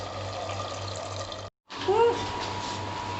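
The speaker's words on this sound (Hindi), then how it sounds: "तो चलें पानी डालते हैं थोड़ा सा।" A little water poured into a pot of chicken karahi, a brief rising trickle after a short cut, under a steady kitchen hum and background noise.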